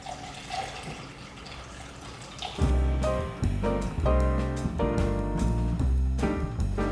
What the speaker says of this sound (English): So after you add your 2 or more ounces of vodka